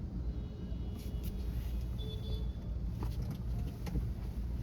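A car moving slowly forward through a rainy Mumbai street, a low steady engine and road rumble throughout with faint traffic around and a brief high tone mid-way.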